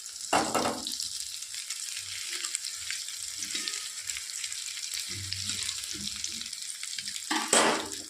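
Beaten egg seasoned with salt fries in a hot wok, giving a steady soft sizzle throughout with a louder crackling burst when the egg first hits the pan and another near the end, plus faint stirring clinks.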